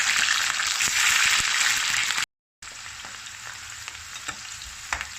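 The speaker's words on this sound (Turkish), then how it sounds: "Biberlerimizi karıştırarak güzelce kızartıyoruz." Steady loud sizzling of peppers frying in a pan, with occasional stirring clatter and a brief silent gap partway through.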